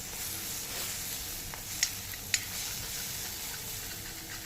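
Dried fish frying in a small amount of oil alongside taro makes a soft, continuous sizzle with two brief sharp pops partway through, with no voices.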